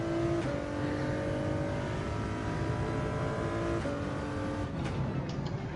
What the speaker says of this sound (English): No, it's a Shelby Cobra.